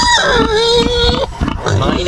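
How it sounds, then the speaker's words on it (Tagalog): Several large free-range pigs oink and grunt in loud, close, overlapping calls, with a person talking over them throughout. "Ito, ang laki ng baboy natin."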